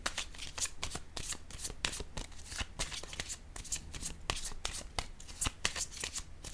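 Tarot cards shuffled and laid down one after another, a dense run of crisp snapping riffles and flicks in quick irregular rhythm, close and steady, with no talking.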